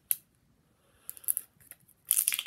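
A zipper is pulled open on a toy doll package. Faint, quiet scratchy bursts come near at the start, then a few short rasps, and a louder, longer ripping run at the end.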